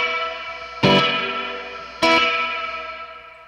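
Electric guitar through a Meris Mercury X reverb set to high pass gives two strummed chords that bloom into a long, shimmering, washy tail, the second strum coming about a second after the first.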